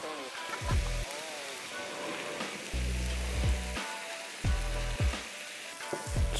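Chicken sizzles loudly in a hot pan with its juices and a splash of soy sauce, a steady close frying hiss with bursts and clatter from stirring, and music playing underneath.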